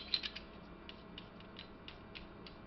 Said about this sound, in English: Just put the bolt back on.